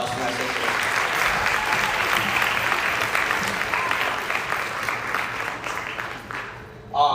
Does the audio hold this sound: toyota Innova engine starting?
no